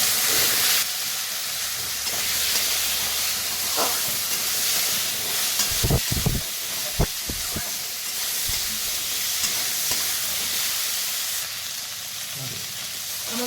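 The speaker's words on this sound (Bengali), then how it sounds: "ওই মাছ ভাজা তেলের মধ্যেই আমি দুটো তেজপাতা শুকনো লঙ্কা আর অল্প ফড়ং দিয়ে আমি এঁচোড় আলুটা একটু ভেজে নিচ্ছি" Jackfruit and potato fry in oil left over from frying fish, with bay leaves, dried red chillies and a pinch of panch phoron, making a continuous sizzling hiss broken by a few clinks of stirring utensils.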